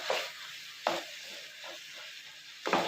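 Chili powder and ground black pepper sizzle in a hot pan for a chicken pepper gravy, a steady soft hiss punctuated by three louder bursts of crackling as the spices are stirred.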